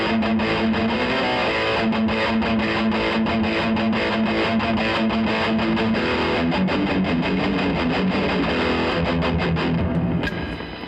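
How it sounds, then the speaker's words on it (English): An electric guitar runs through a high-gain amp on its dirty channel, giving a thick, heavily distorted tone with sustained chords and quick picked notes, loud and continuous with no talk. "if I want to go to my dirty sound, which is high gain sound, I just press the switch."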